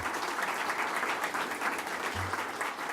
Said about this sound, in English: Let's give them a round of applause for this great building here.